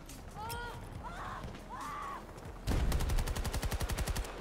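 An AK-74U submachine gun fires in Battlefield 2042: a fast, loud automatic burst of evenly spaced shots cuts in over the second half after quieter game sounds.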